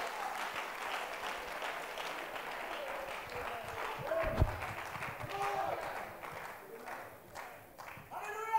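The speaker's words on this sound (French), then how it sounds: "Give the Lord a hand clap." Church congregation clapping hands together in praise, a dense sustained patter of many hands, somewhat distant and moderately quiet, steady throughout with brief louder swells.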